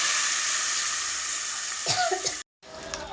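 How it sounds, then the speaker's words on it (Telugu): Tempering spices for pappu sizzle in hot oil, a loud, continuous bright hiss with a few soft knocks, briefly cut to silence before the sizzle resumes. "దానిపైన పోపు సామాన్ వేస్తాను."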